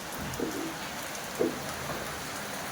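Steady soft rain hissing throughout onto a veranda, fairly quiet, with a couple of faint brief knocks in the background.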